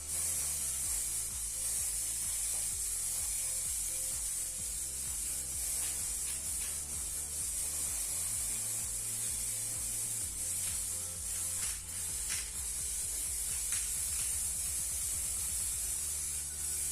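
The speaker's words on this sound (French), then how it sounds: "j'appuie très peu sur ma bombe et ça crache." Spray paint can pressed lightly so it sputters through a stencil, a steady close hiss with faint uneven spitting, no talking.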